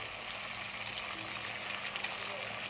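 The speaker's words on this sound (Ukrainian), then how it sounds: "Тепер в, те, в ту олію ми закидаємо цибулю. І також обжарюємо." Onion with coriander, khmeli suneli and paprika fries in oil for a Georgian-style stewed chicken, a steady, even hiss of sizzling that runs throughout with faint small crackles and no talk.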